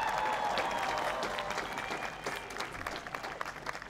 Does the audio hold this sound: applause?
yes